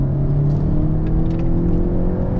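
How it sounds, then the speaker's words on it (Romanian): A VW Arteon R in sport mode pulling hard at low speed, a loud, close engine drone rising steadily with a whirring tone from inside the cabin. "Și acum hai să vedem cum trage mașina pe sport, așa pe reprize scurte din astea, la viteze mai mici."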